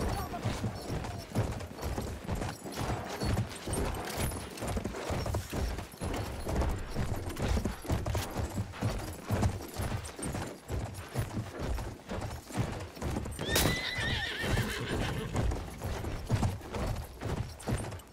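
Horse galloping in the video game Battlefield 1, rapid rhythmic hoofbeats under busy battle noise, with a brief neigh near the end and voices speaking.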